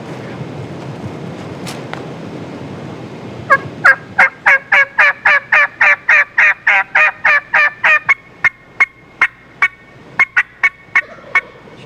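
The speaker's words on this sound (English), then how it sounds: "When you hear him gobble, you tell me." Wild turkey during a spring hunt, heard as a long run of rapid, loud, evenly spaced sharp calls in the open after a quiet windy start, with no voices over them.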